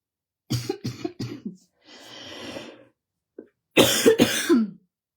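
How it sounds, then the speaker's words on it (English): A woman coughs several times in quick bursts, then breathes out with a long hissing exhale, and after a pause gives two more harsh, close coughs. "Is coughing like the most annoying thing ever or what?"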